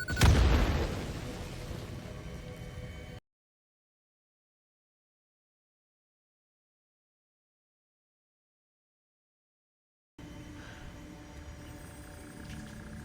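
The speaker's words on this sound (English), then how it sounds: "As I set off the dynamite" Dynamite detonates in the Satisfactory video game: one loud, deep boom right at the start that rumbles and fades over a few seconds, then the sound drops out completely for several seconds before faint ambient noise returns.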